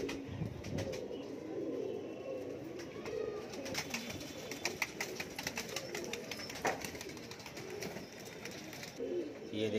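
Saharanpuri red-tailed pigeons, a female and a male, coo and call softly and steadily with occasional wing flutters, close by and with no talking over them.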